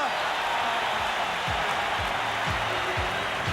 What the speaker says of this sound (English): There's our story with 3:41 to go, and there's that crowd.